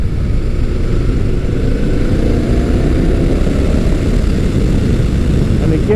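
A Motus MSTR with a 1650cc V-4 engine accelerates hard, producing a loud, continuous engine roar thick with wind buffeting that holds steady for several seconds.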